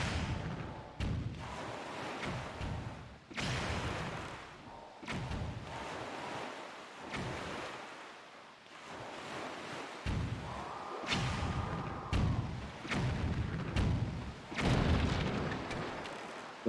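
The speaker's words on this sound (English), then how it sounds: "I'm gonna take down the cannons in one hit using my own cannon" Repeated booming cannon blasts in The Legend of Zelda: The Wind Waker HD, roughly a dozen sharp shots spaced a second or two apart over ocean wash, with a tonal game sound briefly in between.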